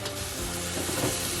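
Food sizzles steadily in an overfilled frying pan while a meatless, high-protein recipe is cooked, a dense continuous crackle at moderate level with no talk.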